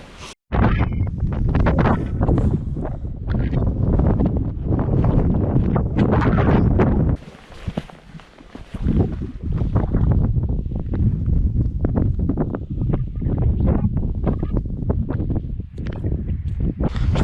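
Strong wind gusts in Rondane National Park, Norway, roar loudly and continuously across the microphone, easing briefly in a short lull midway before buffeting again.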